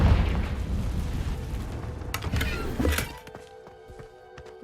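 A Confringo blasting spell explodes in Hogwarts Legacy with a deep, rumbling boom that fades after about three seconds, followed by quieter clinks and game ambience.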